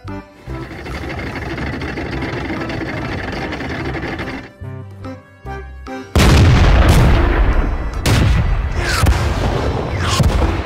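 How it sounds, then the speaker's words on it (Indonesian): Loud rattling mechanical bursts like a toy tank firing, a steady grinding clatter, a short pause, then louder booming blasts with sharp cracks. "Tank baja."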